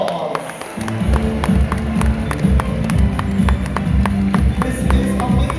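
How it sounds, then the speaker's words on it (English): Audience applause and scattered clapping at a Dubai dolphinarium seal show, mixed with crowd noise and a low rumbling background, steady and fairly loud throughout. "Everybody give them a big round of applause"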